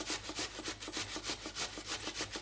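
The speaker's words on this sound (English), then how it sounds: "there's something very satisfying about the potato, just they grate so nicely" Potato grated on the big side of a box grater in a quick, even rhythm of rasping strokes, about four per second, close and fairly soft, with no talk.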